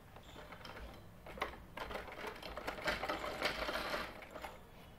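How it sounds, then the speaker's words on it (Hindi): Sewing machine stitching down the pleats of a tulip salwar, a fast continuous mechanical whirring with rapid needle ticks, fairly quiet and close, running in short bursts and speeding up, with no talk over it. "पहले मैं इस पर सिलाई लगा लेती हूँ इस तरीके से"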